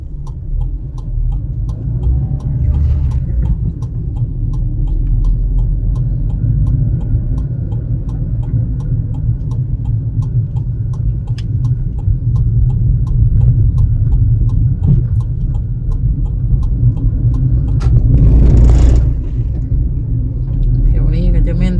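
A vehicle pulls away on a green light and drives along a road between Phonekheng and Dongdok. Its engine rumbles loud and continuously from close by, with talking over it.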